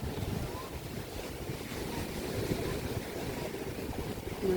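Strong sea waves wash onto the shore at Boracay beach, a steady, broad roar of surf with wind noise buffeting the microphone, loud and continuous throughout.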